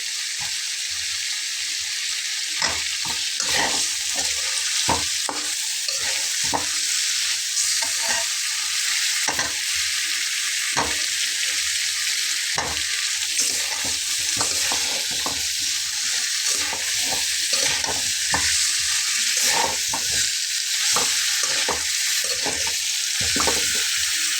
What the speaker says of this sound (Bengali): এখন এর ভিতরে আমি একটা একটা করে ফুলকপি দিয়ে খুব ভালো করে কষিয়ে নেবো